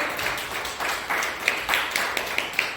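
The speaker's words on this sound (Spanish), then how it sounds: "Denle un aplauso al Señor." A church congregation applauds, loud scattered hand claps in an uneven rhythm that build into sharper distinct claps toward the end.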